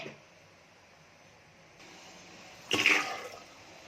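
Water with soaked chickpeas tips into a pressure cooker in one short splashing pour near the end, after a quiet stretch of low room hiss.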